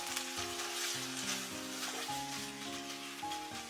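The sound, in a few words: Kung Pao chicken stir-frying in a wok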